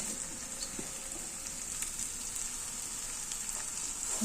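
Onion browning in a hot pan with moringa leaves, salted, giving a steady close sizzle and crackle throughout with occasional small pops and no talking.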